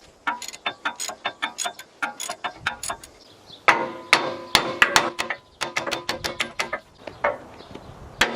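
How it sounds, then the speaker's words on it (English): A hammer taps out stuck bolts on junk steel being made into a tractor log skidding hook, landing a rapid, uneven run of sharp, close metallic strikes, some in quick clusters. "When I'm tapping out stuck bolts like this"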